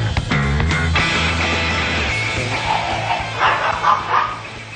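Dogs bark and yip in a short scuffle up close at a dog restaurant in Japan, a few sharp barks at first, then whimpering and growling noises.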